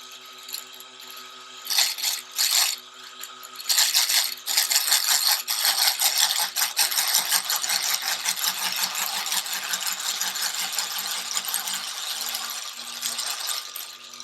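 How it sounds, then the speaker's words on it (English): A sewing machine winds a bobbin at full speed, giving a steady high mechanical whir with brief clicks and bursts near the start, running alone and close. "Bobbin is getting wound, and I'm not holding the spool in place or chasing after it"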